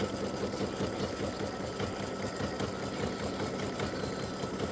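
An embroidery machine stitches a freestanding-lace butterfly earring design, giving a steady, close, rapid mechanical whirr with constant rhythmic needle chatter throughout, with no voices.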